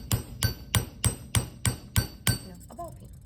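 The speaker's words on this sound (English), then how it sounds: "This is a ball peen hammer." Ball peen hammer striking copper sheet for texturing nonferrous metal: eight sharp, ringing metallic blows in a steady quick rhythm, close and clear, then a brief quiet tail.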